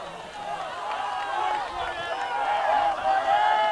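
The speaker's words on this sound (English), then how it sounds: "Great to hear that crowd noise" A high school boys' varsity soccer crowd roars in reaction to a hard sliding tackle, a sustained wash of cheering and shouting voices that builds and stays loud through the moment.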